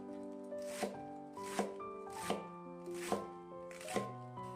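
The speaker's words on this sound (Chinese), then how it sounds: "然后再改刀给它切成细丝" A knife shreds cabbage into thin strips on a board, with five crisp, evenly spaced cutting strokes about a second apart over soft background music.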